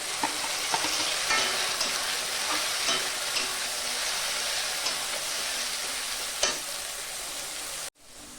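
Steady, loud sizzling of onion-garlic paste frying in a hot pan, with occasional scraping stirs, cutting off abruptly near the end.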